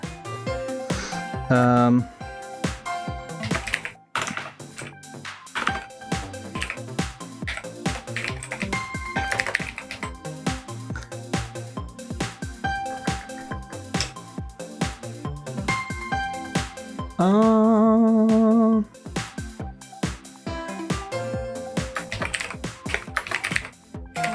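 Keyboard keys clicked rapidly while typing, a dense run of sharp close clacks in irregular bursts, with sustained electronic tones sounding over them in places.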